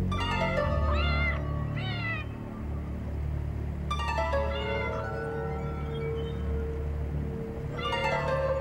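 A cat meows repeatedly in long, wavering, drawn-out cries, loud and close, over a low background hum.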